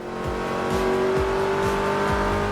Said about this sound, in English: the satisfying roar of a car's engine